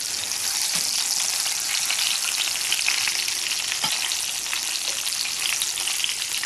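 Tuna searing in a hot pan, a loud, continuous close-up sizzle with a few faint scrapes, steady throughout with no talking.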